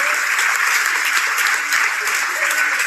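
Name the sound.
audience applause for Gérard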